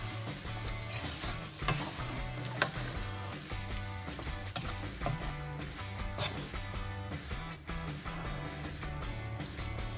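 Meat sauce from a jar is stirred in a hot pan over lowered heat, a close, busy sizzle with scraping stir strokes and light liquid sloshing, no voices.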